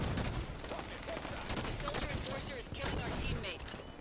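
Rapid gunfire while shooting enemies in the video game Halo 5 Guardians, dense crackling bursts of automatic fire throughout, with a voice talking over it.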